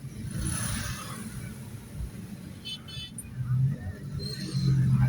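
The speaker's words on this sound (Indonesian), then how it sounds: "Wah, macetnya cukup panjang ya guys." Road traffic queued at a railway level crossing rumbles steadily, with low engine drone from idling and creeping vehicles including a gas truck, and a couple of brief horn toots near the end, all fairly close.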